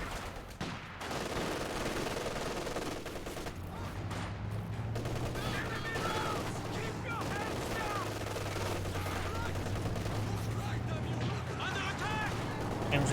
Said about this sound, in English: MG34 getting hit there by the PTRSs from the guards.